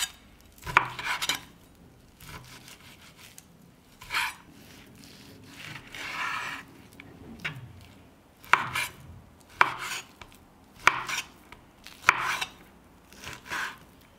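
A knife cuts 1.3 kg of beef neck into smaller pieces on a board, irregular close knocks and sharp chops separated by quiet pauses and soft rubbing and shifting of the meat, with no talking.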